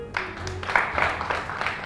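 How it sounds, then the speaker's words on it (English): Audience applause at a Glitterati show, a fairly quiet, continuous patter of clapping with some voices and a low hum mixed in beneath it. "Please give them another round of applause."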